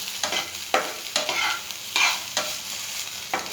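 Food fries in a pan while a spoon stirs and scrapes it in regular strokes about every half second over a constant close sizzle, with no talking.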